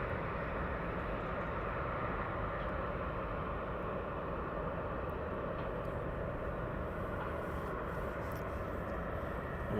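An airplane on approach at East Midlands Airport at night gives a steady, broad roar that holds evenly for the whole stretch, with no talk over it.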